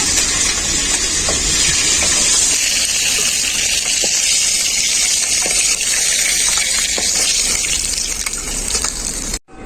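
Loud, constant sizzling of bhola fish frying in hot oil, a dense crackling hiss that runs steadily and then cuts off abruptly at the end.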